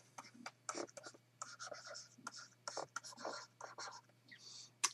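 Pen or marker scratching across a writing surface during a lesson on unit vectors, a series of short close strokes in irregular bursts, with a faint steady hum underneath.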